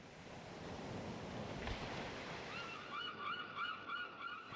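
Ocean waves wash steadily as continuous broadband surf with a rising swell near the middle, wind noise mixed in and faint high tonal calls appearing toward the end.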